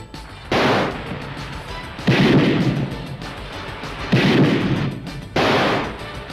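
Gunfire in an action-film scene comes as four heavy, booming bursts about every two seconds, each with a loud blast and a ringing tail, close and dominant, with no voices.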